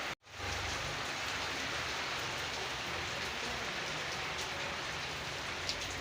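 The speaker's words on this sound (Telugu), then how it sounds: "ఈ రకంగా అయితే వస్తుంది వాన." Steady, dense rain pours down close by at an outdoor function, a constant hiss of drops with no voices and no breaks.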